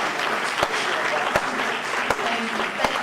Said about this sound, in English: Let's have a final round of applause for our sister as she sets the stage.